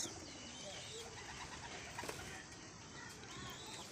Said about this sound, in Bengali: কবুতরকে কিন্তু বাসা চেনানো একটা অনেক বড় কাজ